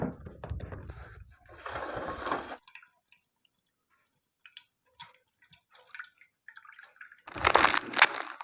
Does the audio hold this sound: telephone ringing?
no